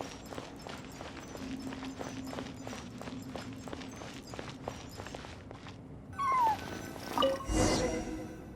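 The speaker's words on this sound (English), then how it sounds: "I followed the cat's cries to find my way out" A cat cries out in the Genshin Impact video game, a few short meows rising near the end over a steady run of footstep-like clicks and ambient game sounds.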